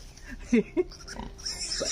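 A pig grunts and snorts in short bursts nearby, with faint background noise.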